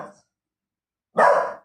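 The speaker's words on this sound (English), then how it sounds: "I better go and see what she's barking at." A pet dog barks indoors: a brief bark at the start, a pause of near silence, then one loud, close bark.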